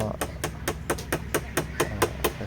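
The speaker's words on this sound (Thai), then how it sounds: "อาจจะมีค้อนหรือว่าไม้ก็ได้ เคาะขอบที่เราบีบเนี่ยให้ แนบสนิทนะครับ" A hammer taps the crimped edge of a Honda City Type Z radiator tank to seal it, about ten sharp metallic knocks in under three seconds at a steady, quick rhythm, close and clear.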